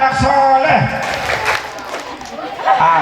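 Children clap along to the 'tepuk anak soleh' chant at a religious sermon, rhythmic group clapping mixed with crowd voices and chanting close by.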